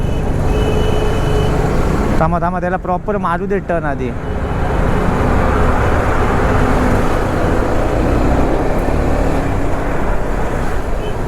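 Heavy highway traffic of loaded trucks and containers rumbles steadily throughout, a constant broadband road roar with vehicles passing close, while people talk over it in the first few seconds.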